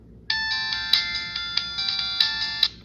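A Virgin Mobile phone's Virgin ringtone plays, a bright electronic melody of quick repeated tones with a few sharp accents, clear and close for about two and a half seconds.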